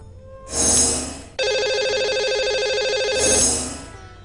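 A telephone rings for a call-in show's lucky caller: a bright electronic ringtone in repeated bursts, swelling at the start, held steadily through the middle and fading again, loud and close with no talk over it.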